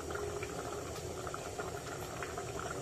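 Agri-style crab curry with fresh coriander bubbles at a gentle simmer in a pot, a faint, steady burbling hiss that runs continuously without any voices.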